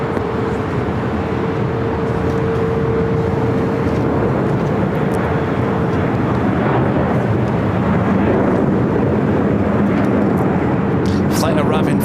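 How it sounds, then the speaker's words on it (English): Delta Airlines flight 948 from Dallas Fort Worth arriving at LAX, a broad, rumbling jet roar that holds steady and swells slightly toward the end, with voices talking over it. "Flight arriving from Dallas, Fort Worth, Texas, Delta Airlines flight 948."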